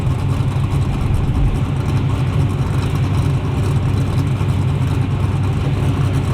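Loud, steady engine roar from drag racing cars at a heads-up drag meet at Toronto Motorsports Park, a Mustang in the left lane, droning continuously without pauses or speech.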